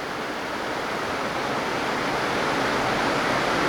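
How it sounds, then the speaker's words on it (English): River rapids in the Rock River Gorge make a dense, continuous roar of rushing water, steady and fairly loud throughout, with no voices. "We're focusing on some of the action on the rapids here."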